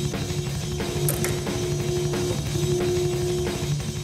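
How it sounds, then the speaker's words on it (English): An Edwards ironworker machine for punching, notching and shearing steel runs with a steady mechanical hum and a ratcheting, geared clatter, loud and continuous with small knocks throughout. "On one side, it can punch holes in everything from sheet metal to thick steel."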